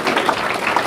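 Brief burst of audience clapping at a mayor's New Year ceremony, a dense, even patter with no voices over it.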